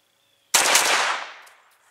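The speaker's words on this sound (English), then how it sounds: "9mm pistol." Rapid shots from a 9mm pistol at a shooting session: one loud, sudden burst of closely spaced reports that blur together for under a second, then trail off in a fading echo.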